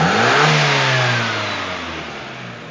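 Small engine fitted with a freshly repaired and tuned carburetor revs up sharply and then slowly winds back down, loud and close with no talk over it.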